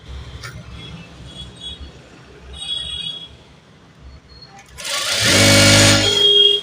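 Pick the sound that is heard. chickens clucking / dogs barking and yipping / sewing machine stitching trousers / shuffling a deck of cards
sewing machine stitching trousers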